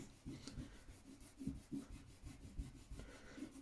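A pencil eraser rubs out sketch lines on paper in quick, rhythmic back-and-forth strokes, faint and close, with no voices.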